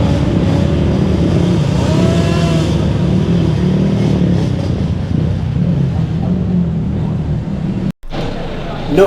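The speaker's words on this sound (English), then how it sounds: "Another class was for two-stroke bikes." Two-stroke racing motorcycles rev and pull away at a race meeting, a loud buzzing engine drone rising and falling over several seconds before a sudden cut.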